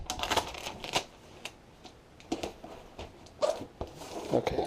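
A roll of 2-inch packing tape is pulled and cut, giving bursts of sharp ripping screeches and crackles separated by brief pauses, close up and moderately loud.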